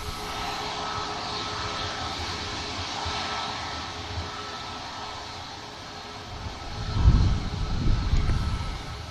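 Dash turboprop airliner passing at Manchester Airport, a sustained engine drone with a faint steady tone, swelling into a louder rumbling surge near the end as it goes by, no voices.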